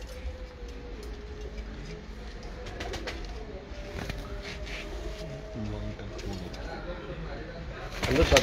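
Breeder pigeons of the Teddy breed cooing in a loft, soft repeated coos under intermittent nearby talk, with a louder rustle at the very end.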